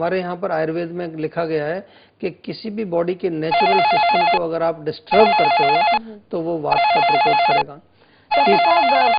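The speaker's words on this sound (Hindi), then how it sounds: "एक फोन कॉल।" An incoming call rings on a telephone in bursts of repeated electronic trilling, loud and near, sounding over continuous talk in a studio discussion on Ayurveda.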